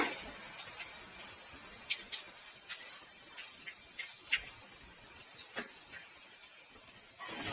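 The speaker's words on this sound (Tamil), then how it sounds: "எண்ணெய் நல்லா சூடானதும் அதுல ஒரு ஒரு ஸ்பூன் இஞ்சி பூண்டு விழுது சேர்த்திக்கோங்க" Steady high hiss of ginger garlic paste frying in hot oil, with scattered soft pops and crackles throughout, no voices.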